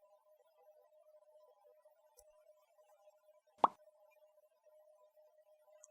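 A single soft tap sounds as a wine cork is set on a side plate during wine service. Faint background hum fills the otherwise quiet room.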